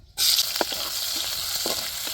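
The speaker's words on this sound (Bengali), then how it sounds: "আর কিছু তেল দিয়ে দিব পেঁয়াজ কাঁচামরিচ" Onion and green chili hit hot oil with a sudden loud sizzle that settles into a steady, close frying hiss, with a few soft stirring scrapes over the next two seconds.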